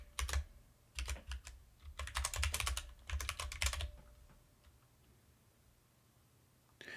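Fingers typing an encryption key on a computer keyboard during a Linux Mint boot, several quick bursts of close, crisp key clicks, then a quiet pause.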